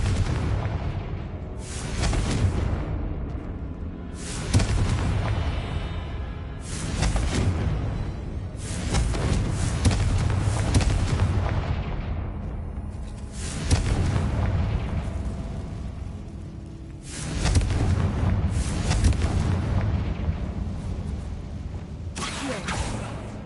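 Repeated blasting-spell explosions from the Hogwarts Legacy video game: loud booming bursts recurring every few seconds, each with a broad roar that decays into rumble, continuing steadily with no speech.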